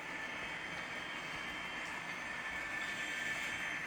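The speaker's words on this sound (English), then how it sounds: "And here's my Athearn Via Rail P42 diesel engine." An HO scale Athearn Via Rail P42 diesel model locomotive running on a layout, giving a steady, even electric whirring hum with a faint whine that holds constant throughout, with no talking.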